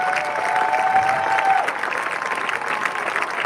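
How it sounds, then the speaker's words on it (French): A church congregation applauding and cheering for a late pastor's wife, steady dense clapping from a large crowd that stays loud throughout, with a faint sustained tone briefly audible early on. "Acclame très fort. Tu acclames le Seigneur Jésus-Christ."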